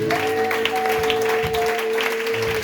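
A church congregation applauds together, a dense, steady clapping that fills the room, with a sustained tone holding underneath throughout.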